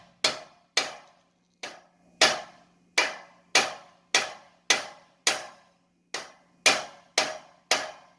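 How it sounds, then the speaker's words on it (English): Metal clanks ring out as a hammer strikes a bolt in a steady series of a dozen or so strikes, each sharp hit trailing off briefly before the next. "I came up with this hammer and a bolt"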